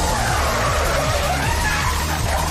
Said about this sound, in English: I cannot take the sounds of cars crashing while Eurobeat is blasting through my eardrums.